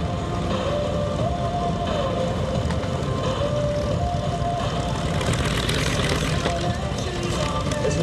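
A B-25C Mitchell bomber, an early version without a tail turret, roars past at the Power of the Pines Airshow at Joint Base McGuire-Dix-Lakehurst. The propeller engines give a loud, continuous, throbbing drone, with voices heard beneath it.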